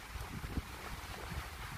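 Cool countryside wind blows steadily across the microphone, a low rumbling buffet with soft gusts throughout, with no voices.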